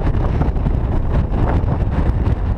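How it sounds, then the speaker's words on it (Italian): Strong wind gusting on an Apennine mountain ridge near a refuge, roaring loudly and continuously against the microphone with no pauses. "mamma che vento"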